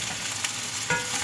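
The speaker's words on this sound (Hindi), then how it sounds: "ये देखिए भिंडी जो है अभी फ्राई हो रही है।" Okra fries in hot oil with a steady, dense sizzle, near and continuous, broken by a couple of brief crackles, with no talking.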